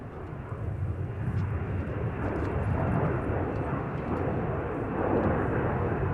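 An airliner takes off from a runway at Minneapolis–St. Paul airport on a windy day, its engines producing a loud, steady jet roar that holds throughout.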